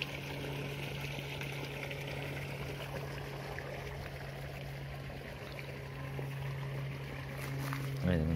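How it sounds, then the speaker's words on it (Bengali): Irrigation water runs steadily through pipes into a farm field, a continuous close rushing flow under a constant low pump-like hum, with a brief louder burst at the very end. "প্রত্যেকটা নলে নলে জল চলে যাচ্ছে।"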